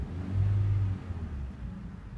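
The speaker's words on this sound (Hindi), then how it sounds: "खड़ी गाड़ी में आप गैस दे रहे" A stationary car in neutral with the handbrake on revs as the accelerator is pressed, a low engine roar that swells briefly and then settles back to a rumbling idle.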